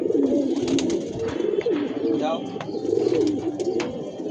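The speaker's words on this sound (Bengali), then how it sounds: "কবুতরগুলো সবগুলাই ঘরে ঢুকে গেছে" Pigeons coo steadily up close, a low throbbing chorus that never lets up, while a man calls out short words over them.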